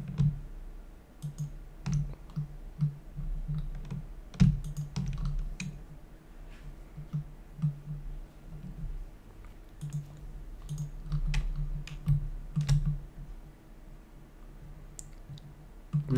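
Computer mouse clicks while working in Creo CAD software, scattered sharp little taps in irregular clusters, close and fairly quiet over a low background hum.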